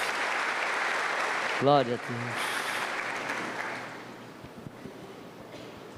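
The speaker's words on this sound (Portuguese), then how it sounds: "Vamos dar um aplauso para Jesus" A church congregation applauding during a Pentecost sermon, broad clapping fading out over several seconds while a voice briefly calls out a praise phrase.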